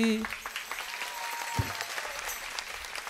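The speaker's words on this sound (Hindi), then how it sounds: "ये तालियां तो आपकी मेरी कविता के लिए थी" Steady applause from an audience at a Holi festival gathering after a poem recital fills the clip, dense clapping with a brief spoken phrase in Hindi near the start.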